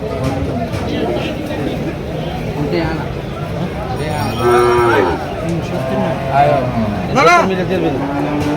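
White bullocks low repeatedly at the Chandimura cattle market. Several loud, close moos rise over constant crowd chatter and people talking nearby.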